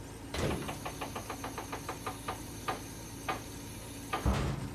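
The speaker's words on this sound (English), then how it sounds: "this harvester is so detailed. It has all these little different sounds for everything that it does, even folding of the auger and everything." A harvester's auger folds in the video game Farming Simulator 25: a steady mechanical whir carries a regular run of ticking clicks that slow down, ending in a heavier clunk.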